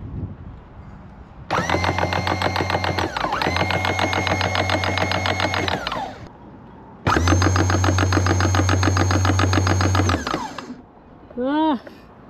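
A new electric anchor windlass on a boat, worked by a foot switch, runs in two loud motor bursts with a steady whirring hum and a short pause between them, followed by a brief voice.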